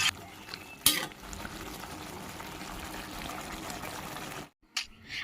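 Goat meat cooked with spices sizzles in a pan as it is fried down to dry off its juices, a steady close hiss with scraping stirs and a couple of sharp clatters, briefly cutting out near the end.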